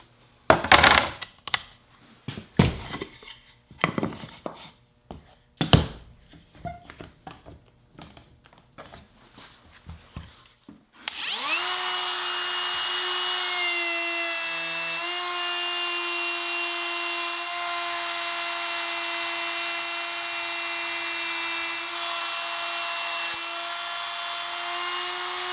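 A RIDGID cordless router fitted with a rabbet bit cuts 1/4 inch plywood. Scattered clicks and handling knocks come first, then a steady, loud, high whine runs continuously for about the second half.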